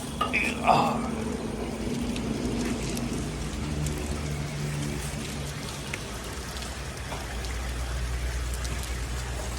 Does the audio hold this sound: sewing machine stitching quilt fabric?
no